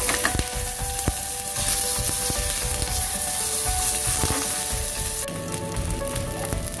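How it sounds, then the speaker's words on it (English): Fresh Akshay Kalp paneer sizzles steadily as it toasts in a pan, with a loud continuous frying hiss and occasional scraping or clinking from turning the pieces. "So we need to toast both the sides."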